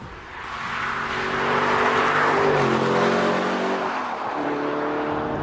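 An Aston Martin DB9 Sport Pack with a British V12 and a de-baffled, very loud exhaust roars close by. The engine note builds and holds, with the pitch rising and then dropping as it shifts under load.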